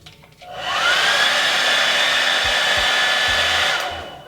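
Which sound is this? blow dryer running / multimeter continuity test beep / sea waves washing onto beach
blow dryer running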